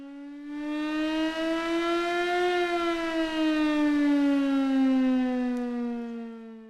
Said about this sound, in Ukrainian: А якщо вони почують загальну сирену